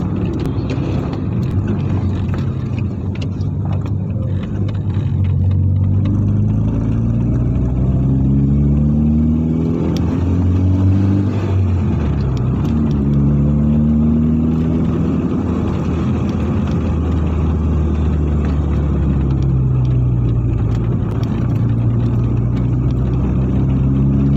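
A car drives along the Balikpapan–Samarinda road and overtakes other vehicles, its engine droning steadily with rising and falling revs as it accelerates past, a continuous loud in-cabin rumble throughout.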